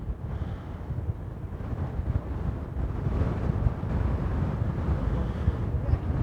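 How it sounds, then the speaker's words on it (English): Strong wind at an Iceland volcano lava flow roars and buffets the microphone in a continuous low rumble, steady and close with no one talking. "Now winds intensified."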